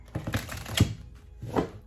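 A tarot card deck handled and shuffled up close: a quick run of crisp card riffles and taps, a pause, then one more burst of shuffling.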